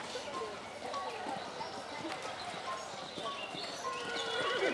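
Hooves clip-clop in a steady rhythm as a horse is ridden outdoors, with occasional whinnies, and people talk over the hoofbeats at moderate distance.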